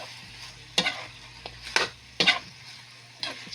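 Chicken adobo with chili stirred in a pan, several distinct scraping strokes of a spoon against the pan over a quiet sizzle, close and unhurried, with no speech.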